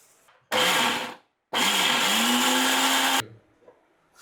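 A mixer grinder whirs loudly and close as it blends garlic cloves, ginger and coriander with a little water into paste, running in two bursts: a short one, then a longer one.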